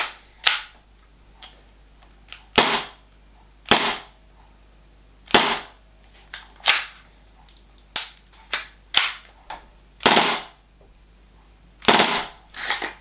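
Sharp snappy airsoft pistol shots fired one at a time at irregular intervals, about a dozen pops with short echoes, close by and fairly loud.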